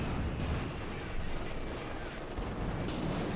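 Rapid, dense gunfire and artillery-like bursts from a World War II real-time strategy game, Company of Heroes 2, with Panzer IV tanks engaged, forming a continuous loud, crackling battle din across the whole stretch.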